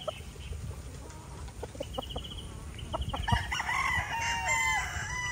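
National Banded game fowl stags crow on a farm, several drawn-out crows overlapping with clucks and other bird calls, moderately near and loud with steady background noise.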